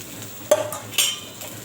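Soaked sabudana (sago pearls) is stirred into a pan for sabudana khichdi: two short, close scraping and clinking strokes of a spoon against the pan over a soft background, with no talking.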